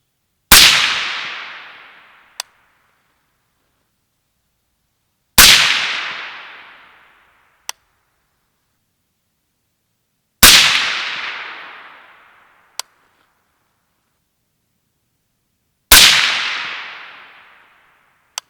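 Four loud single shots from a 300 Blackout pistol firing supersonic 110-grain Barnes TAC-TX loads, spaced about five seconds apart. Each crack rings out briefly and is followed by a faint metallic click.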